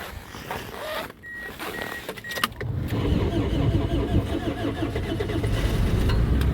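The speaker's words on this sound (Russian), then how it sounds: "Запустил машину на морозе." A Toyota Prius engine in frost cranks and catches after the battery terminals are reconnected, brief clicks first, then a steady running hum that settles into a loud idle with no talk.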